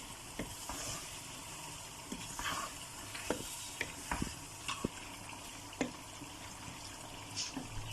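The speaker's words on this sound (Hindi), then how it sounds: "अब हम इसको अच्छी तरह भून लेंगे।" Biryani masala frying in a pot and being stirred for chicken biryani: a steady low sizzle runs throughout, with repeated scrapes and clinks from the spoon against the pan at irregular intervals.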